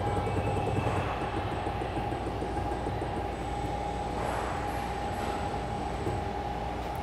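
A ball screw servo module runs an auto-tuning routine, producing a steady droning whine with a sustained tonal hum and low rumble, even and continuous throughout, with no voices.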